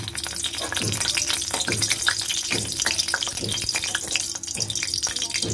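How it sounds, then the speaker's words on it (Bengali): Dried red chillies fry in hot oil, giving a steady close sizzle broken by sharp crackling bursts and a few clattering knocks, with no talking. "ভালো তেল গরম হয়ে গেছে, আমি দিয়ে দিচ্ছি লঙ্কাগুলো"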